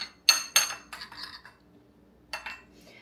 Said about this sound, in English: So, I'm going to kind of mix that all together.